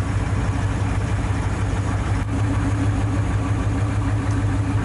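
A 1959 Ford F-100 pickup engine, sitting unused for decades, churns steadily and loudly through the whole stretch with a low, even rumble and no pause or voices.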